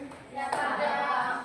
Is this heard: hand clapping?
yes